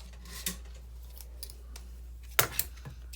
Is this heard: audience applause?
no